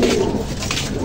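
Pigeons, including a grizzle bird, cooing softly in a loft area during a flock release, under a steady, fairly loud wash of background noise throughout the short moment.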